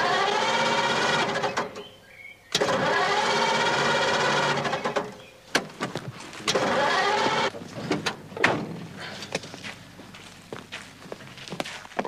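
Car engine cranking with a flooded carburettor: a rapid, even chugging of the starter, cut by short pauses, then ragged bursts and clunks as the engine fails to catch.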